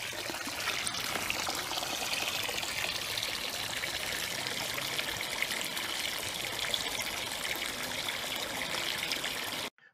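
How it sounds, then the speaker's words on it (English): Water pours steadily into hydroponic growing tanks, a soft, continuous trickling and splashing that stops abruptly at the end. "Then the tanks are filled to about 3/4 from the top with water."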